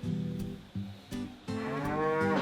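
Cattle at a mineral salt lick lowing, several deep moos in quick succession, broken by short gaps, then one long, loud drawn-out moo that rises in pitch at the end.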